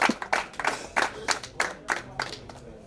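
A small group claps at a civil wedding ceremony in Rwanda, the claps arriving in loose, rhythmic bursts about every third of a second, close and moderately loud with no talk over them.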